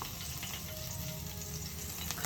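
Chillies frying in hot oil in a home kitchen while Maggi noodles are being cooked, giving a steady, even sizzle that is close and fairly quiet with no talk.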